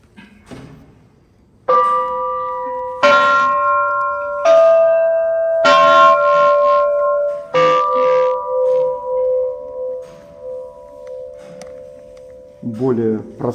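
Dutch bells of the Peter and Paul Fortress clock tower play a slow sequence of clear, ringing tones with long decaying overtones, several strikes building into a short melody that fades, with a brief fresh note at the end.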